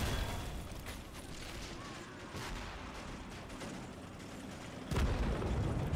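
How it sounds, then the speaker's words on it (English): In the video game Men of War: Assault Squad 2, a deep, heavy boom bursts out near the end, breaking through a steady rumble of distant battle noise and scattered mechanical clatter. "Big explosion."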